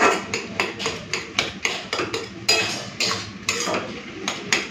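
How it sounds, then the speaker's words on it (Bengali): A metal spatula scrapes and knocks against a pan while boiled ash gourd is stirred, making a steady series of loud clinks and taps close by. "একটুখানি ঘেঁটে দিচ্ছি।"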